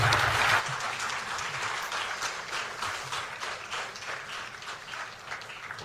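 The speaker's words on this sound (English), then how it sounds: "Please, can we give Mr. President another round of applause, please?" An audience at a swearing-in ceremony for security service heads in Ghana applauds, sustained steady clapping from a crowd that holds at an even level throughout.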